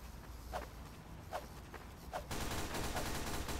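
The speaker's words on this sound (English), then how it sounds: "It's got an SMG." Submachine gun fire in the game Team Fortress 2: a few short sharp bursts give way to dense, continuous rapid shots over a loud, noisy battle background, with no talking.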